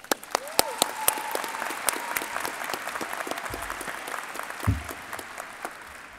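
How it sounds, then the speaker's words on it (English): Applause for the teachers and faculty at the 2021 Bryan Station High School graduation ceremony, a broad crowd clapping with sharp nearby claps standing out, while a voice speaks over it. "giving them a round of applause"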